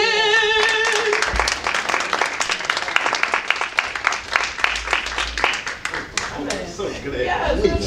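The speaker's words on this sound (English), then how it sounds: "So let's give him a round of applause." Audience applause at a Black History Month church service, a dense crowd of clapping that swells and fades over several seconds, with cheering mixed in and brief talk near the end.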